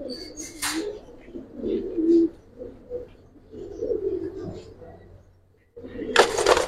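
Silver Giribaz pigeons cooing in low, throaty bursts, several coos spaced through the clip, with voices talking nearby and a sharp loud noise near the end.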